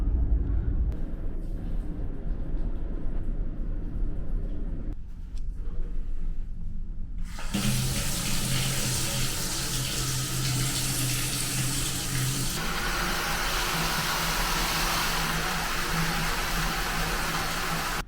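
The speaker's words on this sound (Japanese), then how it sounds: "このように湯船に溜めたお湯がゆらゆら揺れてました" Hot bathwater sloshing back and forth in the tub of a Royal Suite aboard the Pacific Ferry Ishikari as the ship rolls through typhoon seas. A steady, close wash of moving water, with no talk.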